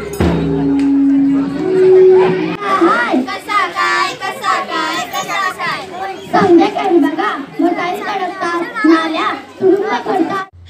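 A crowd gathers in a Kabir Nagar street to see an education awareness chariot, with children's excited voices and chatter filling the scene, loud and close, with people talking throughout.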